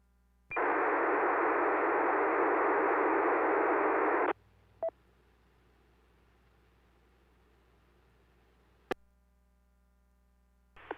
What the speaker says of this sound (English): did you just hear like an APRS beacon come over the frequency?